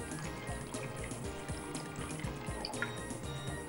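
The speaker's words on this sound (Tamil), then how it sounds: "இப்போது இந்த காய்கறிகள்லாம் வேகிறதுக்கு தேவையான அளவுக்கு தண்ணி ஊற்றிடுவேன்." Water is poured into a pot of vegetables for stock in a kitchen, a close gurgling splash with uneven pulses and drips running throughout.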